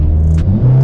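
Engine of a Mercedes-AMG EQT-tuned car under roughly 60-70% throttle, a steady loud low drone that dips briefly then rises again, heard close from inside the cabin.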